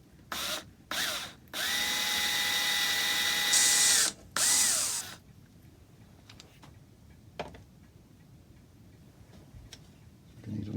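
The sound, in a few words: drill boring a 3mm hole in clock case wood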